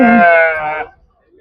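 A single loud, close, wavering bleat from a sheep at a sheep and goat livestock market in Chillakallu, where ewes and lambs are sold. The cry lasts under a second, then gives way to near silence.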